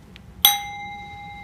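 A single mindfulness bell struck by a little girl rings out once with a sharp attack and a long, clear sustained tone slowly fading, with no talking.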